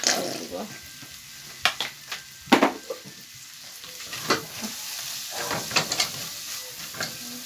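Potatoes, carrots and pasta frying in a pan, a continuous sizzle broken by repeated clacks and scrapes of stirring, close and moderately loud.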